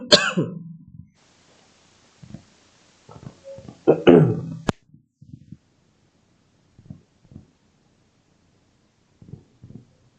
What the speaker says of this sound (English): I'm having extreme cough actually.